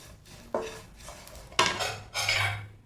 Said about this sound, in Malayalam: ഇതെല്ലാം കൂടെ നല്ലപോലെ മിക്സ് ചെയ്യാം